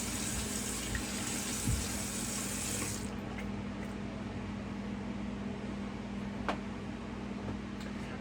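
Tap water runs steadily and close as a razor is rinsed after a wet shave, a constant hiss and splash that softens slightly partway through, with faint clinks in the stream.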